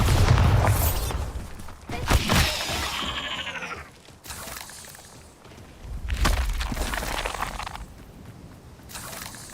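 Bombarda explosive spell blasts in the Hogwarts Legacy video game: several heavy booming bursts with shattering crackle and debris, spaced across the stretch amid ongoing game noise.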